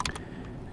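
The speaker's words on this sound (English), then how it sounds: "right here into search bar we will type in TeamViewer" A few quick, light keystrokes on a computer keyboard while typing into a search bar, brief and quiet, followed by faint room hiss with no talking.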